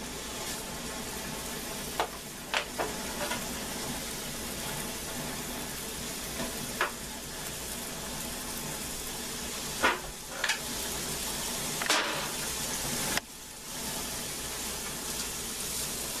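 Food searing in a nonstick pan with a steady, close sizzle throughout, broken by a few sharp clicks and scrapes of utensils, with no talking.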